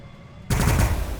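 Gunfire from a burner unit being shot down in the video game Warhammer 40000 Battlesector, with a sudden loud burst of rapid machine-gun fire starting partway through after near quiet.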